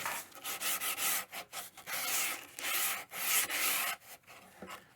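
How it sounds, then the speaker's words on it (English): A wooden guitar neck being sanded by hand at close range, with repeated rasping back-and-forth strokes in an uneven rhythm and brief pauses between passes. "grab this the way I'm going to hold it and sand it like that."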